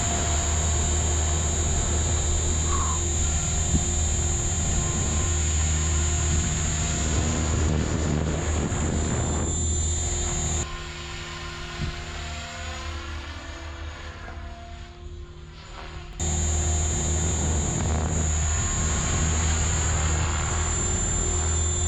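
A Synergy 516 RC helicopter flies overhead in an open field, its loud, steady high-pitched rotor and motor whine continuing throughout, dipping briefly in the middle before returning at full strength.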